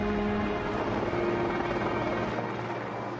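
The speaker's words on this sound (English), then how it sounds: "Then the helicopter kind of flies overhead" A helicopter's steady, loud rotor drone fills the air, broad and constant throughout with no other sounds on top.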